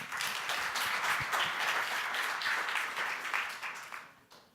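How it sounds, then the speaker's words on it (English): Audience at a startup pitching competition breaks into steady, moderately distant applause, a dense wash of clapping that holds for several seconds before tapering off near the end. "Round of applause, everybody."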